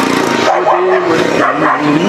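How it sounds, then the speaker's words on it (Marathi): A dog barks and yips during a kirtan devotional gathering, short sharp calls mixed with nearby voices and tonal sounds, fairly loud and close. "कुत्रा आलं का?"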